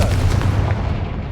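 Confringo spell blast in Hogwarts Legacy, a fiery explosive burst rumbling heavily and continuously through a short moment with a loud booming low end, no talk over it.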